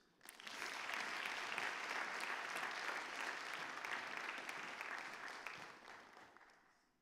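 An audience at a senior academic and athletic recognition ceremony applauds a scholarship recipient, steady dense clapping from a large crowd that swells quickly, holds for several seconds and then tapers off.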